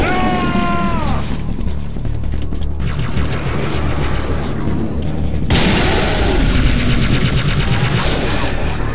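Rapid bursts of game gunfire and booming blasts from Halo 3 on Legendary difficulty, including battle rifle fire, sounding loud and continuous with dense overlapping shots, no talk.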